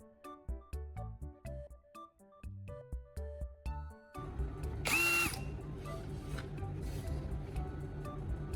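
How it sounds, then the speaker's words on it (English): A power drill bores holes into a wooden base in a workshop, a steady loud whine with rising and shifting pitch running for several seconds after a stretch of sparse tapping. "I drilled holes into the wooden base and hammered the turnbuckle pieces in place."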